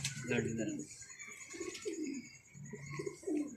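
Pigeons coo in repeated soft, throaty phrases close by, with a faint background hiss and no talking.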